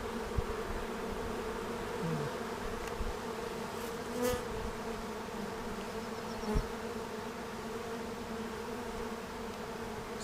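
Honey bees buzz in a dense, continuous drone at an open hive during a Finnish honey harvest. The sound is close and steady, with a few single bees passing nearer.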